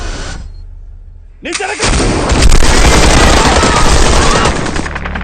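A quiet lull in a film breaks into heavy, rapid gunfire and booming blasts as security officers open fire, a loud sustained barrage that fills the rest of the clip.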